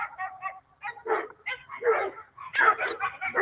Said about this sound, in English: His own dogs are going nuts